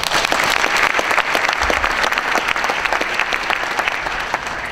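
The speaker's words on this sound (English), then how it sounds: "Give a round of applause." Loud audience applause at a London mayoral hustings held in a church, a dense burst of clapping close by that continues steadily and tapers slightly toward the end.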